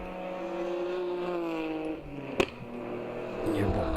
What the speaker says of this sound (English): A little crack there as he makes the upshift through the bend.